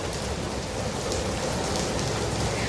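Heavy, sudden rain pours down in a dense, unbroken roar, loud and close, with no voices over it.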